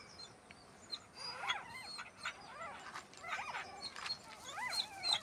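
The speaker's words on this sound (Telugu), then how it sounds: "కుక్క చూడండి ఎట్లా లేస్తుందో" A farm dog yips and whimpers several times in short high bursts, fairly close and moderately loud, with no talk over it.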